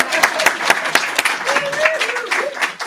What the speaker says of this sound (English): So yeah, you can clap.